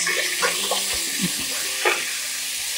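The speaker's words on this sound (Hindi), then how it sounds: "आलू को भी इसी के साथ बस थोड़ी देर के लिए भून लेना है" Potatoes and cauliflower fry together in a pan for aloo gobhi, a loud, steady sizzle close up, with a few stirring scrapes and no talking.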